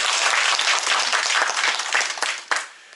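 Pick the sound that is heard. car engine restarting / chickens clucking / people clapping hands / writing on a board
people clapping hands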